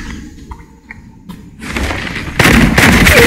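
Gunfire in a shooter video game, loud bursts and crackling blasts building over the final second and a half, with a quieter stretch of clicks and game noise before it.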